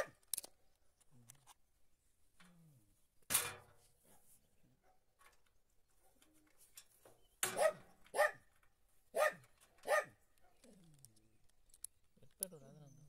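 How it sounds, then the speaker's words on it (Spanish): A dog barks in short, sharp bursts, answered by other dogs passing along the road, heard as scattered loud barks against a quiet outdoor background. "El perro ladrando. Pasan otros perros por el camino y ladran."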